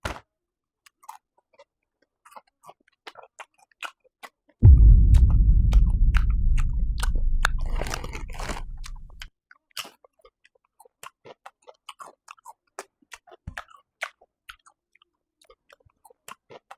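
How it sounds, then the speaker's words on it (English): Loud, close chewing with sharp wet clicks and smacks repeating irregularly throughout, plus a few seconds of low rumbling noise in the middle. "why are you chewing so loud?"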